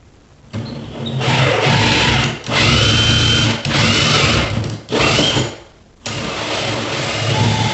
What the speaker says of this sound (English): hold the drill with the other